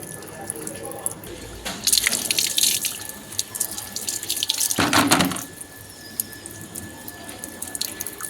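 Tap water runs into plastic bottles being filled at a household faucet, a splashing, gushing stream that surges loudly in bursts with drips between, while people talk in the background.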